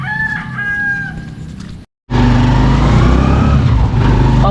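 Chickens cluck and a rooster crows nearby in a rural Philippine setting, then the sound cuts out briefly before returning under a loud, steady rumble of passing road traffic.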